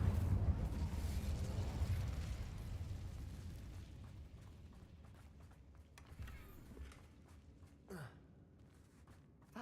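A fiery Incendio spell erupts in Hogwarts Legacy, a loud rumbling roar that swells at once and slowly fades, followed by a few fainter bursts and crackles toward the end.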